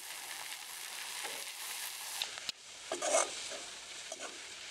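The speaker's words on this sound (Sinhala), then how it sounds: "මේ ටිකත් යන්තම් බැදීගෙන ඉදි මම මේකට කපාගත්ත කැරට්, ගෝවා, ලීක්ස් ටික ටික එකතු කරගන්නවා." Carrot, cabbage and leeks stir-fry for chicken fried rice in a pan, a soft steady sizzle broken midway by a brief scraping stir and clatter before the gentle frying hiss resumes.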